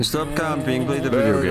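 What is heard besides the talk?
None of the usual background noises is heard.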